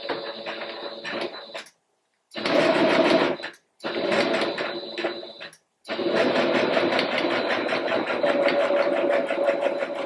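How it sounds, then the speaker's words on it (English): A sewing machine runs a straight seam on a puff quilt, its fast whirring stitch chatter close and steady, broken by two short silent pauses before running on continuously. "put my pedal, my foot down, and then again put in another straight stitch to the left of the initial seam"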